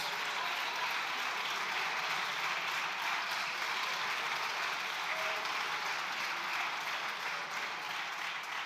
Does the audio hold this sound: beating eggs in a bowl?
no